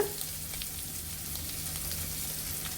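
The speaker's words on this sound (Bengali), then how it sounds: "পেঁয়াজগুলো একটু হালকা ভাজা ভাজা হয়ে গিয়েছে" Onions lightly frying in a pan for a prawn chorchori, a soft steady sizzle with faint crackles, close and quiet, with no voices.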